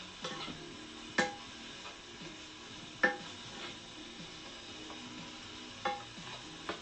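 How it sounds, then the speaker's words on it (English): Portobello mushrooms sauteing in a pan, a quiet steady sizzle with a few sharp utensil clicks and stirring knocks spaced a couple of seconds apart, no voices. "those portobellos take a while to saute"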